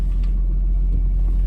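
A 1965 Mercedes-Benz 220SE Cabriolet rolls in reverse, giving a close, steady low engine rumble with no break across the brief moment.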